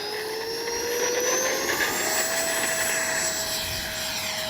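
An Arrows F-86 64mm EDF RC jet flies overhead, its ducted fan giving a loud, steady high-pitched whine that slowly rises in pitch as it passes, with wind rumble underneath.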